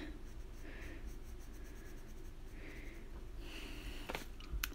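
A colored pencil rubs across paper while coloring, giving a soft, steady scratchy stroking with short repeated bursts, very quiet and close, and a faint sniff near the end.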